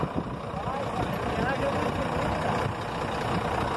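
A truck's engine idles steadily, a continuous low rumble that holds at an even level for several seconds while it sits stuck.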